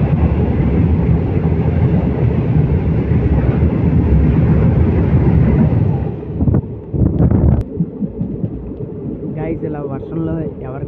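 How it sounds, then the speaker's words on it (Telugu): Goods train roaring past at speed in the rain, a loud, dense rush that cuts off abruptly, followed by quieter rumbling and a voice speaking. "గూడ్స్ ట్రైన్ అయితే దూసుకొని వెళ్ళిపోతున్నాడు."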